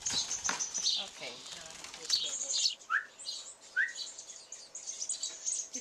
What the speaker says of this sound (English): These are robins.